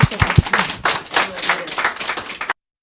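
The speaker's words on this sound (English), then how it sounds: "So let's give both of them a hand of applause," An audience at a civic leadership forum claps, a short burst of scattered, fairly close handclaps that rise and fall before cutting off abruptly.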